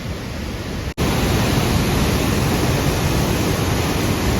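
Water rushing out through a shutter of an old dam in Idukki during the monsoon, a loud, dense, continuous roar with a brief dropout near the start, no talking.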